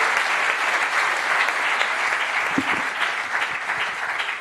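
Sustained applause from an audience at a Paris 2024 Olympic presentation event honoring athletes, a dense even clapping that fills the whole stretch with a couple of louder claps standing out near the end.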